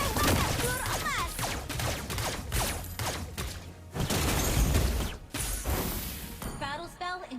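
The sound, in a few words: Layla firing golden bullets in Mobile Legends video game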